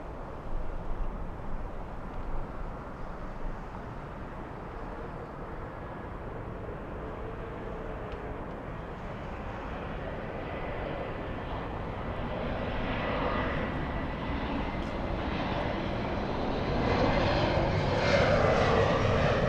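A Korean Air Boeing 747-8 on approach to LAX over Santa Monica, a distant jet engine roar that swells steadily louder as it nears, with no voices.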